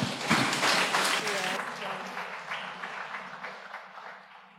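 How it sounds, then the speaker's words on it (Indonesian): Congregation applause during a Sunday church service, a dense burst of clapping that fades gradually and thins out, with some voices mixed in. "Sekali lagi kita beri tepuk tangan Bapak Ibu Saudara untuk keluarga Yasti Kajo"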